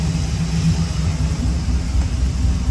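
A 500 HP Hemi-swapped Dodge Ram engine runs with a deep, steady low rumble, loud and close, with no pitch change or talk over the short stretch.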